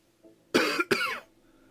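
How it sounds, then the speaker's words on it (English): Two harsh coughs from one person in quick succession, close and fairly loud, following a faint throat sound, alone with no talk. "excuse me if I'm coughing."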